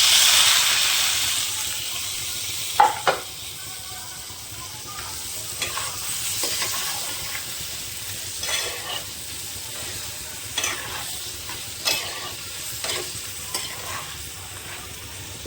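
Fried lentil dumplings (bori) simmering in a pumpkin curry, with a steady soft sizzle and hiss and a series of spoon-stirring scrapes and knocks spaced through the pot.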